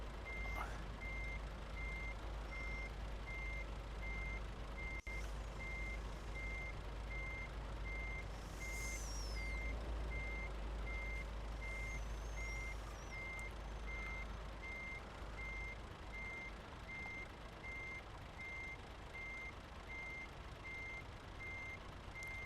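A truck sounds its reversing alarm in Japan Truck Simulator, a steady run of evenly spaced beeps that repeats throughout over a low diesel engine rumble, with a brief air brake hiss partway through.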